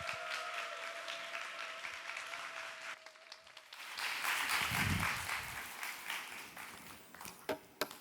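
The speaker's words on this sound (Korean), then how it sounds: "박수로 환영하겠습니다" A church congregation applauds to welcome an elderly pastor, a burst of clapping that swells in the middle and fades into scattered claps.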